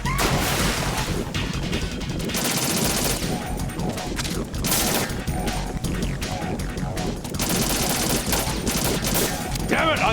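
Dense gunfire erupts in Metal Gear Solid 2, rapid shots and crashing impacts piling into near-continuous volleys at loud, close range, with a player's voice talking intermittently over the barrage.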